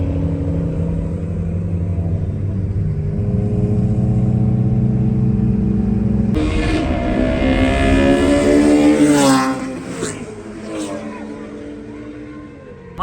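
A BMW M3 V8 and a BMW 535i race side by side, a steady loud engine drone building into sharp high revving and rising gear pulls, then easing off as the cars fade.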